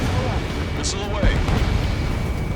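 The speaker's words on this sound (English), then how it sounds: "Missile away." Missile launch and explosion in the combat flight game Ace Combat 7, a loud continuous roaring rumble with a burst near the middle, under radio chatter and engine noise.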